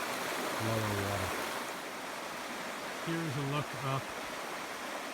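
Steady, close rushing of a shallow stream running over rocks, a constant broadband wash of water, with someone talking briefly over it.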